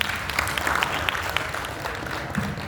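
Applause from the audience at a PERADI Halal Bi Halal gathering, scattered but continuous clapping with a few sharp individual claps, moderately soft and somewhat distant.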